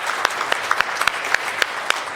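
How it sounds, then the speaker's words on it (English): Applause from a room of people at a Boston City Council meeting honoring state champion student athletes, steady dense clapping with a few sharper individual claps standing out, continuous throughout. "Can we just get a quick round of applause?"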